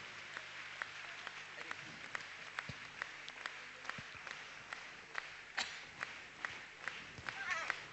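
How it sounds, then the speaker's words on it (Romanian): A live audience applauds young folk dancers at a dance ensemble's 40th anniversary show, with scattered, fairly faint claps and thumps spread through the stretch. Some murmuring sounds underneath. "Aplauze pentru acest frumoși tineri dansatori."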